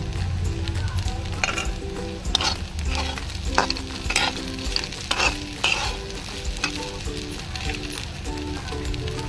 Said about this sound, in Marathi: आणि आपण ह्याला परतून घेऊया